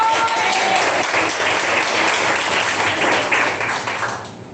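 Church congregation applauding during a worship service, steady dense clapping from many hands that fills the room and fades near the end.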